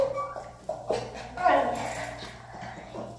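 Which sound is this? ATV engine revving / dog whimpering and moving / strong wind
dog whimpering and moving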